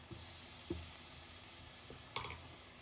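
Garlic and ginger paste is stirred in a pan, a faint steady sizzle with a few soft scrapes of the utensil, quiet and close, no talking.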